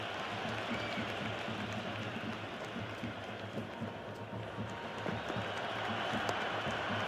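Dense, steady crowd roar and applause from a stadium audience in the Cricket 26 video game after a hooked six in an India vs England one-day international, continuous and fairly loud throughout with no talk.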